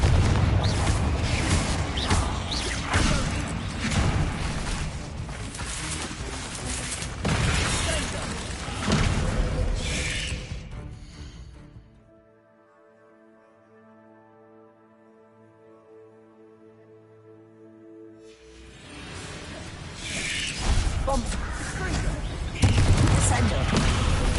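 In Hogwarts Legacy, Bombarda and Confringo spell blasts burst in dense, loud volleys of booms and crackling impacts. They break off for a quiet stretch with a lingering tone, then the barrage resumes.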